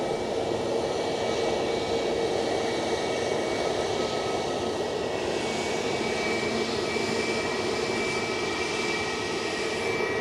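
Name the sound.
jet airliner taking off down the runway at Edinburgh Airport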